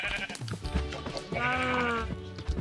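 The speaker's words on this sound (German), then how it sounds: "Schafe." Several Minecraft sheep bleat loudly in succession, wavering calls close up, with faint clicks between them.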